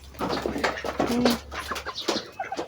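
Domestic ducks in a backyard farm plot give a run of close, repeated calls, mixed with other bird chatter against a low steady hum.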